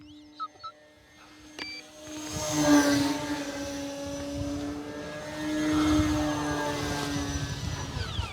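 A small engine drives an Arrows Bigfoot 1.3m RC model airplane on takeoff, giving a rising, buzzing propeller drone that swells and fades as the plane climbs away. It is moderately loud outdoors, with a few clicks early on.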